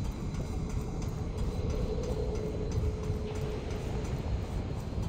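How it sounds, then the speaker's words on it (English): A steady low rumble of a moving train carriage in Remnant 2, with rhythmic clatter and a faint tonal hum running throughout, heard from inside without talk. "Are we inside a train?"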